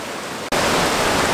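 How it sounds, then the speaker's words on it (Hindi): Steady roar of Jogini Falls near Manali; a broadband rush of falling water that jumps abruptly louder midway through and then holds constant and close, with no voices. "ये रहा मेरे पीछे वाटरफॉल,"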